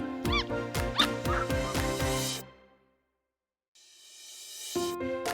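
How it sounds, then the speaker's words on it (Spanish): A dog gives a quick run of high, squeaky barks and yips, bright and close, then falls silent before another short tonal burst starts near the end. "Así suena el perro."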